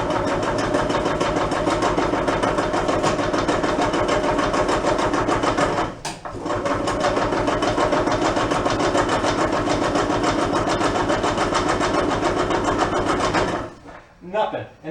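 An old barn-find gas-powered golf cart engine cranks steadily and loudly without catching, a fast mechanical churning that runs nearly continuously with one short pause before cutting off near the end.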